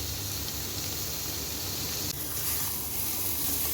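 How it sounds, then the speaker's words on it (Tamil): Ivy gourd and masala sizzle steadily in a pan over a medium flame, a dense, even hiss that stays loud and close throughout with no talking. "மீடியம் ஃப்ளேமில் வச்சு க்ளோஸ் பண்ணி மைல்டாக ஃப்ரை பண்ணிக்கலாம்"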